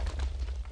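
A short, deep, rumbling blast with crackling noise, a Minecraft TNT explosion heard close and low in volume.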